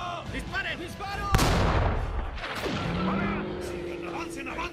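A tank cannon booms and gunfire crackles in a film battle between Sherman tanks and a Tiger I, one loud blast followed by a rumbling roar under shouted speech.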